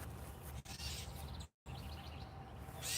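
Agitated bird calling near its nest in a garden, with short chirps and tweets repeating close by over steady outdoor background noise, broken by a brief dropout.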